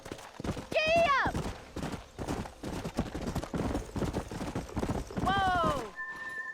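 A horse gallops in the Red Dead Redemption video game, its close hoofbeats drumming in a rapid steady rhythm, broken twice by loud, high whinnies, near the start and near the end.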